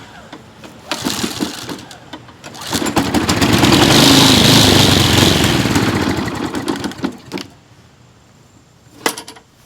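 A Briggs & Stratton 6.75 HP engine on a Craftsman 22-inch weed trimmer, smoking and leaking fuel from the primer bulb, runs loud and close. It rises in a sustained roar mid-clip, then falls back amid clanks and handling knocks.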